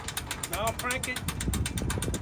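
A hand-cranked ratchet winch raises a boat, giving a rapid, regular run of metallic clicks that continues steadily throughout, with a brief voice partway through.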